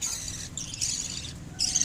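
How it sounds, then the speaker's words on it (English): Lovebird chicks being fed by their parents in a nest pot, giving repeated high, thin begging calls in close bursts with short gaps. "The babies are being fed by their parents, and they produce this sound"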